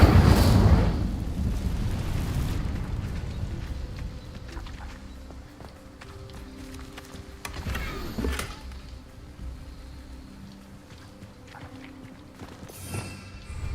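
An Incendio fire spell cast in Hogwarts Legacy, a loud whooshing burst at the start that fades into rumbling and scattered clicks and thuds of game ambience.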